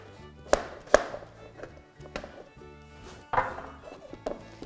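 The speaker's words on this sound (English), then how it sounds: "Now I'm just going to cut it into small chunks" A knife chops butternut squash into chunks on a board, giving several sharp, separate thuds at an irregular pace with quiet gaps between them.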